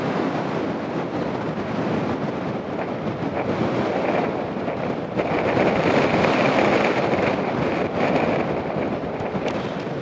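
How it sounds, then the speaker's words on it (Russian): Strong, gusty wind blowing in the Khamar-Daban taiga, roaring continuously and buffeting the microphone with surging rumble, louder gusts swelling midway, no voices. "Адский ветер тут."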